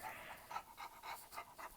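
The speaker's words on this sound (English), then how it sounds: "I'm sorry my dog is breathing so very loud beside me." A dog pants loudly right beside the listener, quick rhythmic breaths in a regular series of about seven puffs, close and alone with no talk.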